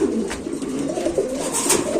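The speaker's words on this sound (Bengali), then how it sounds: "সুস্থ সবল কবুতর যে নরের ডাক দেয়" A male blue satin pigeon coos up close in a pigeon seller's yard, giving a repeated low throaty call in an even rhythm with no talk.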